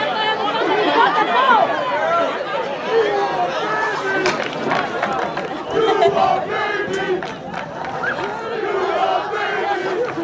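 A steady crowd at a high school boys varsity soccer match between New Brunswick and South Brunswick fills the air with continuous loud chatter and scattered shouts, a dense, unbroken wash of many voices.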